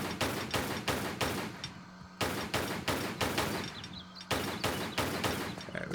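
Gunshots in Tomb Raider 3, a rapid series of sharp close shots fired in bursts with brief gaps between them, loud and alone without talk.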